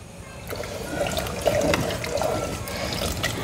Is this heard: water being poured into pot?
yes